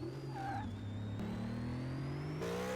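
A Batmobile engine in the video game Car Mechanic Simulator, heard as a steady low hum that rises slightly in pitch when the throttle is tapped, fairly quiet and continuous with no talk.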